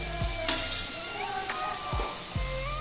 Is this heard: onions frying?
yes